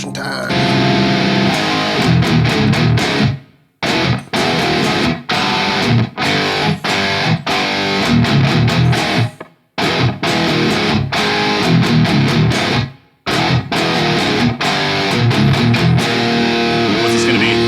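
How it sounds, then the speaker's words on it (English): Electric guitar played through heavy distortion from a Quad Cortex capture of a 6505 amp, loud dense riffing chords with several short abrupt stops and restarts, alone without talk. "Distortion time."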